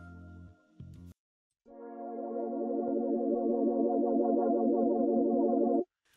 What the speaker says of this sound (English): So if I want to add some chorus as well, I control it with the Y axis.